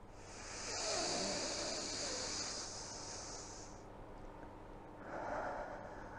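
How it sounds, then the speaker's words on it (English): A deep breath drawn in through the nostrils during a low-intensity body-positive workout, a long, close, hissing inhale lasting a few seconds, then a shorter second airy breath, with no talking. "you're enjoying the lovely sounds of the air entering my nostrils"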